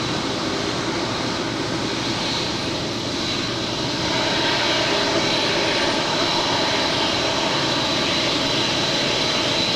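A heavy jet airliner at LAX roars continuously and loudly, a dense engine rumble that swells slightly partway through, with no voices present.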